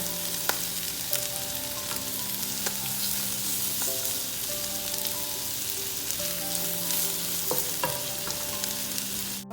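Gulf shrimp sizzle steadily in a hot pan for pad thai, a dense continuous frying hiss with occasional utensil taps and scrapes, close up and uninterrupted by speech.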